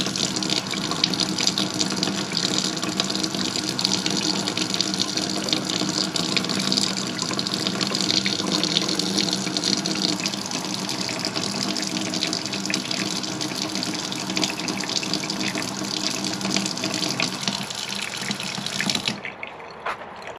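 A kitchen sink faucet in an RV runs water in a steady, loud, hissing gush that fills the space without pause, then cuts off abruptly near the end.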